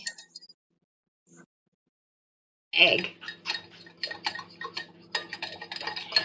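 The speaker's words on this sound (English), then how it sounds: "I'm just going to keep whisking as I go" Fork or whisk clinking rapidly against a ceramic mug while beating melted butter and egg, first a few faint taps, then a quick steady run of close metallic ticks and clinks.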